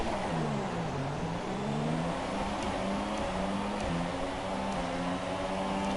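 Several Formula One race car engines rev and whine together at the start of a Russia race in F1 2017, with a Renault among the pack; a dense, steady roar of rising and falling engine tones continues throughout.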